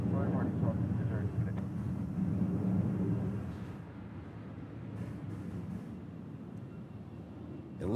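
An airplane moves at Honolulu airport, a low distant jet rumble that holds steady and then fades slightly, with faint background noise and a person talking over it.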